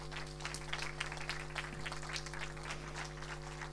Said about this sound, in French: Et ils méritent évidemment vos applaudissements.